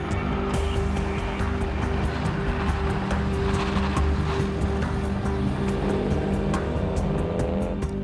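Rally cars setting off on a freezing Arctic morning in Rovaniemi, with a steady loud engine drone and a sustained hum with no talking.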